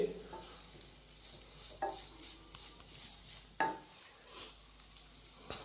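Chicken samosa filling fries and is stirred in a pan, a soft steady sizzle with a few louder scrapes of the spoon against the metal, moderately quiet with no talking.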